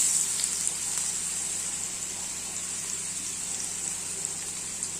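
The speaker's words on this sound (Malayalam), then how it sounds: "അപ്പം നമ്മുടെ ഒരു വശം തിരിച്ചിട്ട് മീൻ ഇതുപോലെ മൂത്തെടുക്കണം" Seer fish frying in a pan, a steady hissing sizzle of hot oil that holds on evenly throughout, close and moderately loud.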